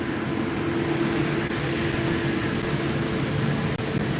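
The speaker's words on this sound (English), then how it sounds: "They are cleaning the street. Sorry about the noise." A steady, loud street-cleaning vehicle engine drone with broadband rumble and hiss, continuous throughout and close by, on a city street on a Monday morning.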